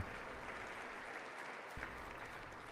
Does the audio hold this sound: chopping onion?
no